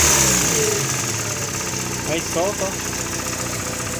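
Engine on a Volkswagen with a CHT engine idling and revving while a worn clutch mount knocks, giving a steady loud drone with faint rhythmic tapping, and someone speaking briefly over it.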